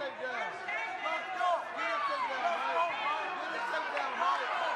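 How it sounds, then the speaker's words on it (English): Crowd noise rising in a gym during an overtime period of a high school wrestling match between Edgewood and Milford, a steady murmur of voices and shouts filling the space. "the crowd begins to come alive a little bit on this one now"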